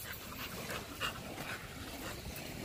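A compact, heavy-set female dog breathes in quick, rhythmic pants close by, with a faint whimper in the middle of a low outdoor background.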